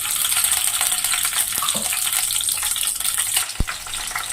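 Green chillies sizzle in hot oil in a pan for gongura mutton curry, a steady close frying hiss throughout with a sharp clink near the end.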